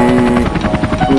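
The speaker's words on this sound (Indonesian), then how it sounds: "Wih, ada helikopter." A helicopter drones loudly and close, a steady whirring rotor and engine hum with a rapid pulsing beat, heard alone and without a break.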